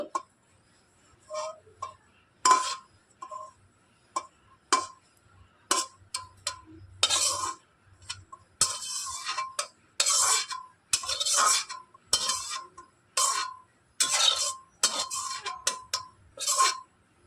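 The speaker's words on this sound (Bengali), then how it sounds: "সেদ্ধ পটলটা আমি মিক্স জারের ভেতরে নিয়ে নিচ্ছি" Boiled pointed gourd spooned from a pot into a mixer jar, a long run of sharp separate clinks and taps of a spoon against the metal and jar, close and uneven in rhythm, with no talking.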